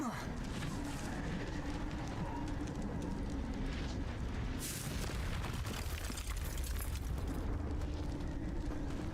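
A Confringo fire spell blast in Hogwarts Legacy bursts out midway through a steady bed of dense game noise and rumble, with a boomy, explosive character.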